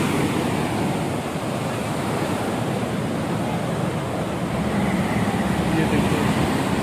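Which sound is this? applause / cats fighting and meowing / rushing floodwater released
rushing floodwater released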